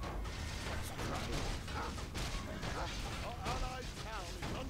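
Explosions boom through a Warcraft 3 battle in the War in the Plaguelands game, a dense continuous rumble of blasts and crashes lasting throughout, with people talking over the game sounds.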